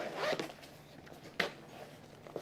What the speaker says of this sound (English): unzip